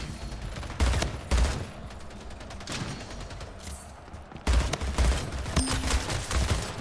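Rapid automatic gunfire in the Splitgate shooter game, loud bursts of shots in two main volleys with a quieter stretch between, no talking.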